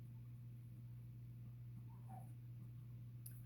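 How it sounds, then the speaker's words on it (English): A pet dog whimpers faintly indoors, a soft, brief whine rising once over a steady low electrical hum, distant and quiet. "I don't know what's going on with my dog."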